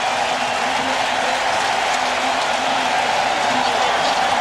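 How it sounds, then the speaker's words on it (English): A large football stadium crowd roars steadily during a 1994 Raiders at Patriots NFL game, a broad, continuous wash of cheering with no distinct breaks. "that gets the crowd going"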